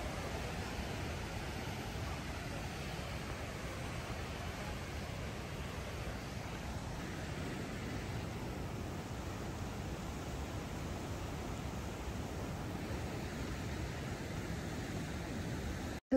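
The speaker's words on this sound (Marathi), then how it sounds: "इतका पाण्याचा सुंदर आवाज येतो आणि हे बघा हे डायरेक्ट असं खाली हे वॉटरफॉल चाललंय." Waterfall near Peyto Lake in the Canadian Rockies, a broad steady rush of falling water, loud and unbroken throughout.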